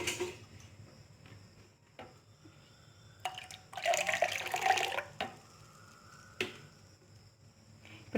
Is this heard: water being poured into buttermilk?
yes